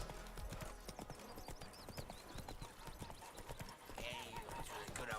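In the Witcher 3 video game, the horse Roach clip-clops along in a steady, even hoof rhythm, with a voice talking over the hoofbeats and a brief whinny-like tone.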